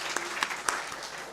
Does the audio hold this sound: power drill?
no